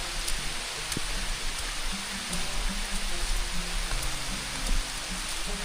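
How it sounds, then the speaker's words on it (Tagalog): A steady, even hiss of outdoor rain during a sunshower, with drops pattering on surfaces and no break in the downpour. "Umuulan pero maaraw."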